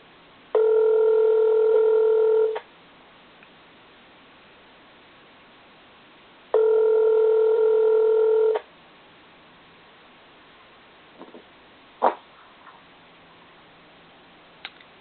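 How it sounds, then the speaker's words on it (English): Telephone ringback tone on an outgoing call, two long electronic rings about four seconds apart, loud and clear, followed by quiet clicks of the line connecting. "It's ringing."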